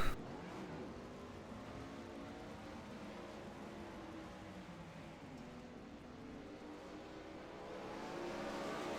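410 winged sprint cars racing at Lanier speedway, with several engines droning steadily at a distance, a continuous layered roar that swells slightly toward the end.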